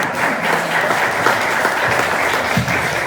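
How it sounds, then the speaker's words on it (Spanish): An audience bursts into sustained, close applause for Lenin, a dense, steady clatter of many hands lasting the whole stretch, with a few voices faintly underneath. "ese aplauso es para el gran Lenin"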